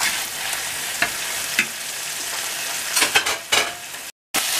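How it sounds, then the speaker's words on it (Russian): Meat frying and being stirred in a pan for a funchoza noodle dish, a steady close sizzle broken by several louder scrapes and clatters of stirring and one short silent gap. "Обжарить мясо до готовности, скажем так."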